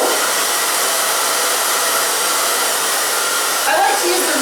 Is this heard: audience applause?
no